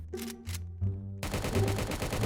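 Rapid automatic gunfire in a Roblox prison escape game, a dense continuous burst of shots following a couple of brief quieter sounds, loud and close within the game audio.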